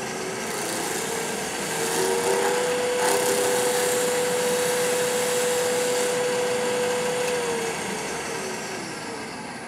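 Wood lathe spinning a turned four-sided jar: a steady broadband rushing whir with a sustained motor hum through the middle, fairly loud, holding throughout without any speech.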